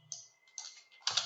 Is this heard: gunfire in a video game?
no